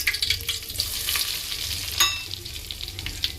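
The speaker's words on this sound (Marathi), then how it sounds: "इथे तेल तापलेलं, तर टाकते कढीपत्ता आणि तेजपान, हळद, तिखट आणि मीठ." Curry leaves, bay leaf, turmeric, chili powder and salt sizzling in hot oil in a pan, a close, steady crackle with sharp pops and occasional stirring, no voices.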